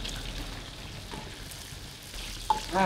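Chicken wings coated in turmeric fry in hot oil, giving a soft, steady sizzle with a few crackles and light stirring knocks toward the end.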